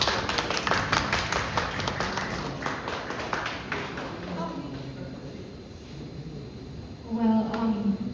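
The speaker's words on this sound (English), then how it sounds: "let's give Mrs. Morley a round of applause" A round of applause at a Miss World 2025 press conference in Manila, a burst of quick claps from a small group that thins out and fades, followed by a voice speaking.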